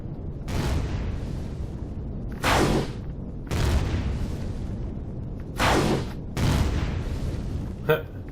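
Weapon fire in the space game Empyrion as drones attack a base: five separate loud, booming shots fall at irregular intervals over a steady low hum, ending with a short sharp click.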